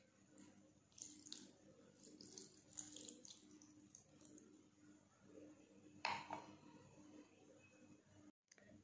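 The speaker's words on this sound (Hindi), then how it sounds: "यहाँ पे मैं पानी डाल रही हूँ," Water from a glass is poured onto a disposable period panty, a soft trickling and splashing run close by, with a sharper splash midway and quiet room tone around it.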